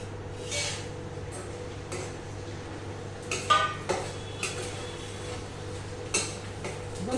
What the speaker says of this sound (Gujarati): ગુંદરને બરાબર ફ્રાય કરી દઈએ